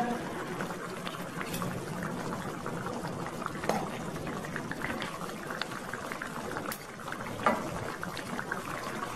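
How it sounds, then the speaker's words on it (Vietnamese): Stuffed tofu in meat sauce simmers in a pot, a steady close bubbling and crackling boil running throughout with small pops and no voices. "anh chị nấu 7-8 phút gì đó cho nó tan gia vị và cái nước nó sánh sệt lại một chút đó"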